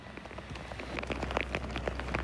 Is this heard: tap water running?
no